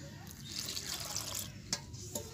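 Water is poured in a short, faint trickle onto pitha dough as it is kneaded by hand, brief and close with soft splashy touches.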